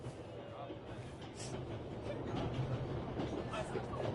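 Train rolling along in the video game 11-11 Memories Retold, a steady low rumble with faint rhythmic rail clatter running continuously throughout, with voices talking over it.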